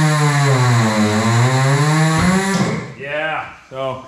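A Coats rim clamp tire changer machine runs with a strong, steady motor hum that rises and falls, then cuts out and gives way to people talking nearby.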